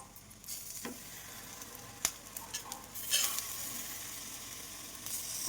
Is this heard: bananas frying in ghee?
yes